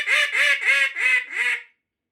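A Matt Pierce small bore mallard duck call is blown in five loud, close, evenly spaced quacks in a quick descending series, followed by silence.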